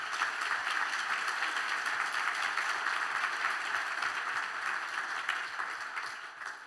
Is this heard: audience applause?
yes